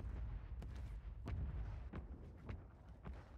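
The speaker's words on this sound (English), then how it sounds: "I'm looking for where this mortar is coming from" Mortar fire during a solo Warzone battle-royale match: a run of about six sharp, booming impacts spaced roughly half a second apart over a low rumbling background, with no talking.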